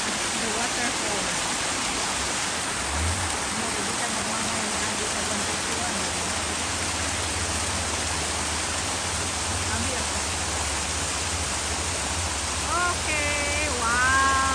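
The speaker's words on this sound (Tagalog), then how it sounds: "I want you guys to hear the waterfall." A waterfall in the Philippines roars as a steady, even rush of falling water, with a faint low hum and brief chirps near the end.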